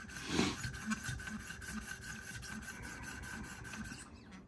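A Sebenza clone knife blade rasps back and forth across a whetstone in steady, close strokes, a dry scraping rhythm with no voices.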